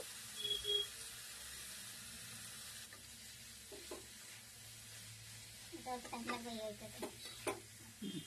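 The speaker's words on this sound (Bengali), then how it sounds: "পালং পাতাগুলো দিলাম, দিয়ে এখন সামান্য নাড়াচাড়া করব।" Spinach leaves go into a pan with lightly fried potato and carrot and get a gentle stir. A faint, low sizzle runs throughout, and soft scraping stirs gather toward the end.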